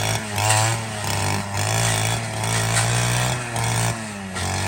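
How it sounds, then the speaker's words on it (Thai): A grass cutter with a small petrol engine trims grass in front of a rural Thai house, its motor buzzing loud and steady close by, the revs dipping and swelling several times without letting up. "ตัดหญ้า"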